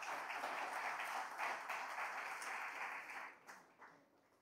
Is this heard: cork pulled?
no